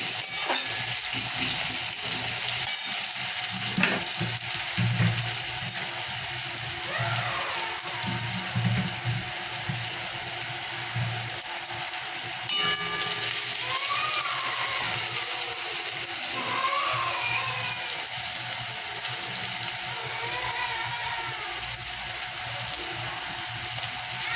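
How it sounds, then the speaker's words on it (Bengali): A steady, close sizzle of onions frying in a pan until reddish-brown runs throughout, with occasional scraping and rattling from stirring. "আমার পেঁয়াজটা বেশ ভাজা হয়ে গেছে, লাল লাল করে ভেজে নিয়েছি"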